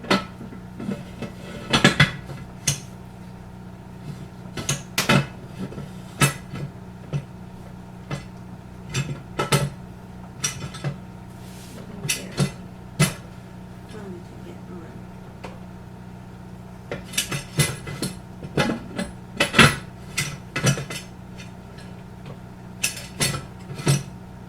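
Metal pressure weight set onto the lid of a Power Cooker for 10 pounds of pressure during canning, bringing repeated sharp metallic clinks and knocks with quieter handling in between, a voice talking at times.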